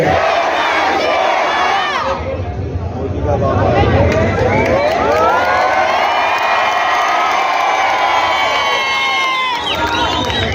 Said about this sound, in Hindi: जोरदार नारे के साथ में उनका इस्तकबाल कीजिए।